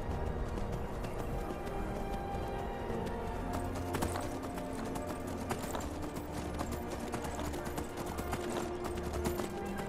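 Horse hooves clip-clop steadily in Skyrim, the steps mixed into a busy game soundtrack with music and ambient noise, with an occasional whinny.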